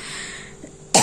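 A single sharp cough bursts out at the end, loud and close, after a moment of quiet breathy background.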